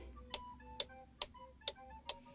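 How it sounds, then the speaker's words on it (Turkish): A clock ticks five times in an even, steady rhythm, each sharp tick close and clear over a quiet background hum, with no voices. "Saatimiz tik tak diyerek ses çıkarıyor."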